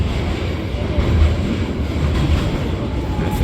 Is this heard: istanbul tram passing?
yes